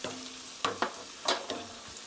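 Eggplant stir-frying with doubanjiang in a pan, producing a soft steady sizzle broken by a few sharp scraping stirs of the spatula, close and moderately quiet with no talking.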